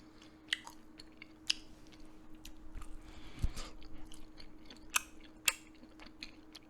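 Someone eating homemade pizza close to a microphone, faint soft chewing and crunchy bites with a few sharp clicks over a low steady hum, no speech.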